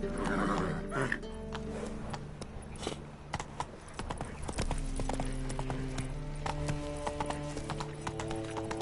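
Geralt's horse Roach gallops in The Witcher 3, a steady rhythmic clip-clop of hooves under game music and ambience, with a brief whinny near the start.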